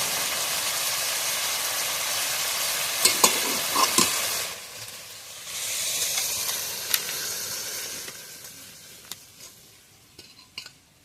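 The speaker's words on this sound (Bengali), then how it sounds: "এবার একটু ধনে পাতা কুচি দিয়ে দেবো, দিয়ে একটু নাড়িয়ে নেবো" A spicy, tangy crab curry sizzles and hisses in a pan while chopped coriander leaves are stirred in, with a spatula scraping and knocking against the metal. The frying fades toward the end, leaving sparse clicks.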